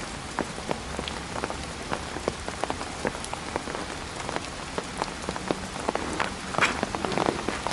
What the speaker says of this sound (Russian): Дождик застал раньше.